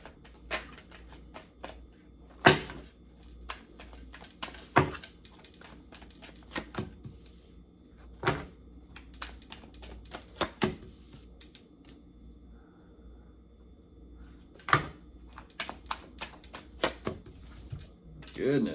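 Tarot cards shuffled by hand in a quiet room, giving scattered soft riffles and sharp flicks at uneven intervals, with a few louder snaps standing out against near silence.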